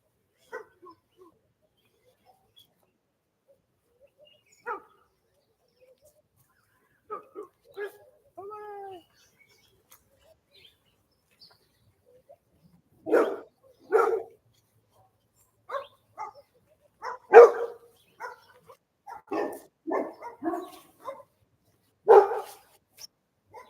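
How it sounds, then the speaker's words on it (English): Dogs behind a fence barking in scattered bursts, faint and sparse at first, then louder and more frequent clusters of barks in the second half, with occasional yelping or meow-like cries. "The closer I get to the fence, the louder the dogs become."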